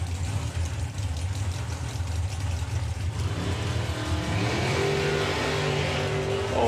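A little Datsun drag racing car at the FIA Main Event 2022 idles roughly, then launches and accelerates with a loud, rising mid-pitched engine note, heard from a distance amid trackside noise.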